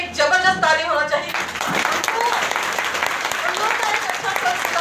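An audience bursts into sustained applause after a speaker's voice at the start, a dense roomful of clapping that carries on steadily to the end.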